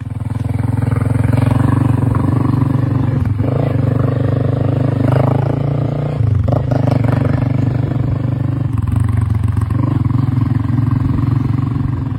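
A motorcycle engine drones steadily at close range for the whole stretch, a loud low rumble with small shifts in pitch and occasional clattering.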